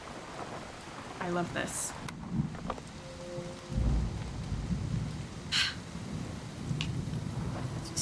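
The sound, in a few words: rain with thunder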